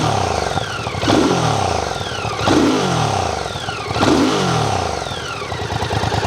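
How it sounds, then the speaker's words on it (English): An MBP C1002V motorcycle engine burbles at idle and is blipped in three short revs, each rising and falling back, close and fairly loud with no talking. "Give it a little rev."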